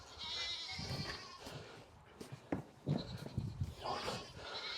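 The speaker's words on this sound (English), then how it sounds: "You can probably hear the cows are really angry over there in the stall." Cattle call from a nearby stall on a homestead, a few loud, agitated bellowing cries standing out over steady outdoor background noise.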